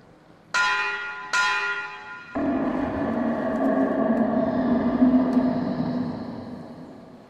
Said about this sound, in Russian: Звони в колокол, когда рыба подплывает